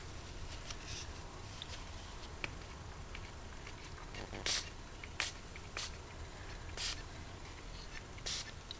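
Several short hissing bursts of Glimmer Mist spray onto a painting background, spaced a second or so apart, close and fairly loud against low background rustling.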